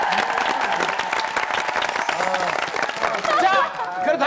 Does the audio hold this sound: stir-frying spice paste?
no